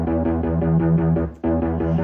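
Synth bass from Logic driven by an eighth-note arpeggiator, pulsing in steady, even repeated notes with a brief dip near the middle, loud and alone with no talking.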